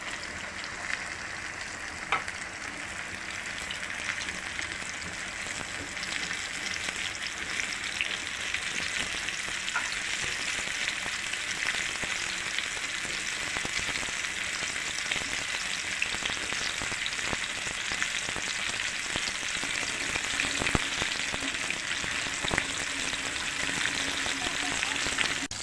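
Marinated chicken pieces fry in hot oil in a pan with a steady, dense crackle and sizzle that stays close and continuous throughout.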